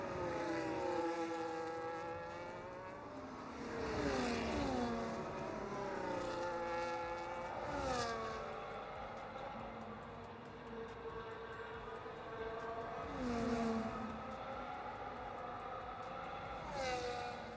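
Racing video game cars at Spa, including F4 on hard tires, with several engines screaming and dropping in pitch as they brake, one after another, with a steady background hum throughout.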